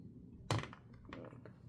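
A RAM stick seats into an AM4 motherboard memory slot with one sharp close click, followed by a few faint light taps in a quiet room.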